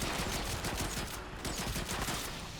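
The Zhuge weapon in a video game fires a dense, rapid stream of shots, heard as a continuous rattling fusillade at moderate loudness.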